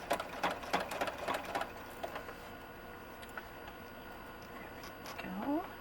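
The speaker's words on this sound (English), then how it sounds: "I'm just going to sew it down." A sewing machine stitches down fabric for doll overalls in quick bursts of rapid mechanical chatter, close and moderately loud, pausing into a quieter stretch before a short final run.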